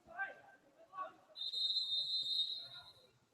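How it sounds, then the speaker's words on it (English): Referee's whistle at an indoor soccer championship match, one sustained shrill blast lasting about a second, heard between stretches of commentator talk. "Referee blows his whistle."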